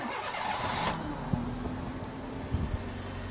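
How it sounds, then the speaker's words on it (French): A car engine cranks and catches with a turn of the key after a fresh battery is fitted, starting briefly and settling into a steady running note, close and clear with no talking. "monter dans la voiture et donner un tour de clé pour démarrer"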